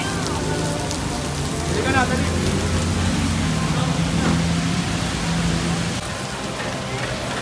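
Heavy rain pours steadily in a dense, hissing wash, with a person speaking briefly underneath it.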